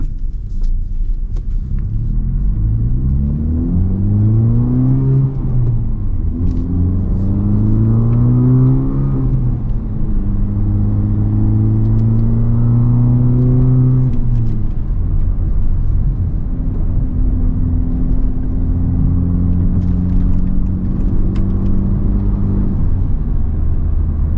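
A 2023 Honda Civic Type R driving, its engine revving up through several gears in rising sweeps with shifts between them, loud and continuous under road rumble, with no talk.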